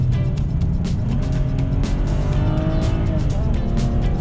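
A BMW E92 with a 3-litre naturally aspirated engine accelerates, a steady, loud engine roar running throughout with some tyre noise and a faint voice underneath.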